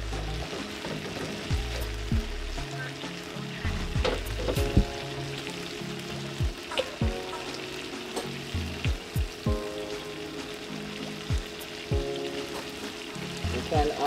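Shrimp sizzling in annatto oil in a pot for pepper shrimp, a steady close frying hiss broken by occasional pops and stirring clinks, with no talking.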